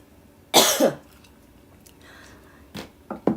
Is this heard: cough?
yes